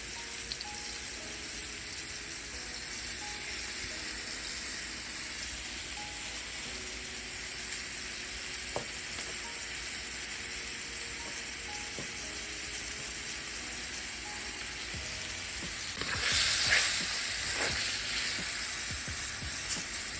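Flour-dusted beef pieces searing in a pan for stew give a steady, close sizzle that holds evenly throughout, with a louder crackling flare near the end and no talking.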